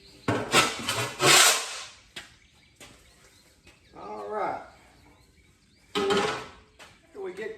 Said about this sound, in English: I'm going to sweep it up, put it in my wheelbarrow.